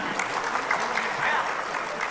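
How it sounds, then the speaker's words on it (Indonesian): An audience at a West Java political gathering claps in a dense, even burst of applause, moderately loud and steady throughout, with faint voices mixed in. "Tepuk tangan semuanya."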